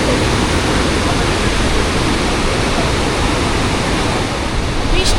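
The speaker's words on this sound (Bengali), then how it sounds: "ধৌলিগঙ্গা দেখো একটু বেশি লাফাতে লাফাতে আসছে ছলকে ছলকে" The muddy Dhauliganga river rushes and splashes at Vishnuprayag, a loud, steady, close roar of churning water that fills the whole clip without a break.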